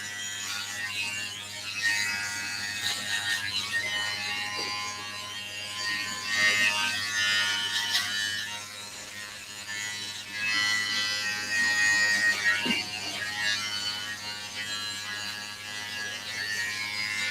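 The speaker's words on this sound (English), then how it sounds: "If we just use the corner of the clipper and just draw a line, and then you can follow it in afterwards." Electric hair clippers buzz steadily while a barber cuts a baseline with the corner of the blade, a close continuous whirr with slight fluctuations as the blade moves along the hairline.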